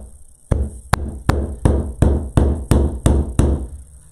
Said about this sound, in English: I hammer that right on through to the very, very bottom.